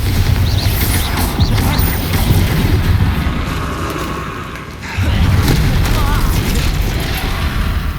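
A Bombarda spell explosion in the video game Hogwarts Legacy, with loud booming blasts and rumbling combat noise that briefly dip midway, then surge back, along with shouted voices in the game.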